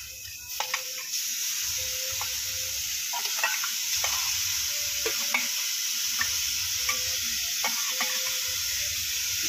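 Grated coconut fries with cardamom pods in a hot pan, giving a steady close sizzle and hiss while a spoon stirs and scrapes against the metal in irregular knocks and taps, with no voices.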